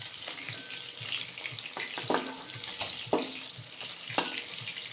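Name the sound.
rui fish frying in oil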